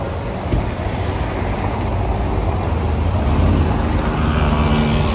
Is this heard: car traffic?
yes